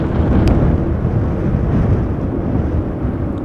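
Strong wind gusting during Storm Pia at Amsterdam Schiphol Airport, a loud continuous low roar and rumble battering the microphone, steady throughout with no voices.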